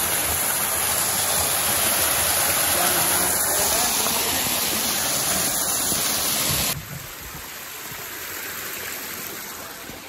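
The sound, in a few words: small mountain stream flowing on Bhimashankar trek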